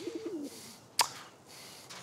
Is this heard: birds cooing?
yes